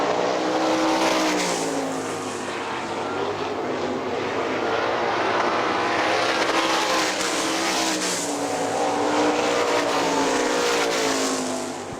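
Sprint cars roar around the dirt oval at Hartford Speedway Park, a loud, continuous high-pitched engine drone rising and falling as the pack passes on the final laps.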